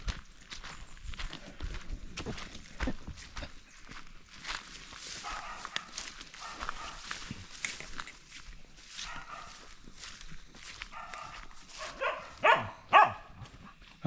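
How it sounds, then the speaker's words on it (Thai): A dog barks outdoors at a rural spot where mushrooms are being gathered, giving scattered, moderately faint yelps over footsteps and rustling, with a louder burst of barks near the end. "หมาเห่า"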